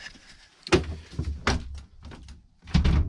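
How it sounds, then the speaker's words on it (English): A frozen-shut camper van door is tugged repeatedly, giving a series of dull, close thunks and rattles in uneven bursts, separated by short quiet gaps and with no talk. "the door's actually kind of frozen shut right now."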